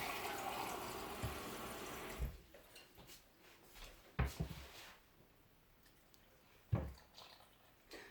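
Water pours steadily into a Thermomix TM6 for a couple of seconds, then stops, followed by quiet kitchen clinks and knocks; all faint and close.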